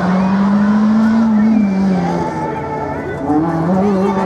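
Race car on a slalom course at Lessay, its engine loud and close, the pitch climbing and falling as it accelerates and shifts, with no talk over it.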